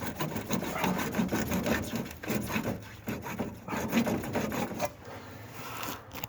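Rough rhythmic wood sawing or rasping continues steadily, with repeated back-and-forth strokes at close range and no talk over it.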